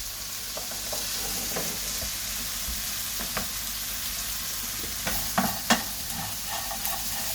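Onions and cabbage frying with red curry, a steady bright sizzle throughout with occasional stirring clicks and scrapes growing busier toward the end.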